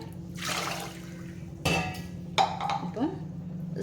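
Half a litre of water poured into a pot of horse gram soup, with a brief splash and bursts of liquid at intervals over a steady background hum.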